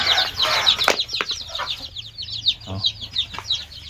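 Native village chickens cluck and chatter continuously in quick, overlapping bursts, with a few soft thumps and flutters mixed in nearby.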